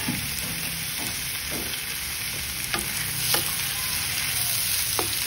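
A hot dog fries in a pan with a steady, close sizzle, and occasional stirring scrapes and clinks sound over it.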